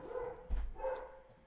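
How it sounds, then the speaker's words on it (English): A dog barks a few times in the background indoors, faint and muffled, with a short burst of low thumps between the barks. "I don't know if you've got to be able to hear that barking."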